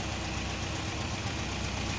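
The 1.5 liter four-cylinder engine of a 1960 Nash Metropolitan idles smoothly with the hood open, giving a steady, even hum that runs unbroken from near by.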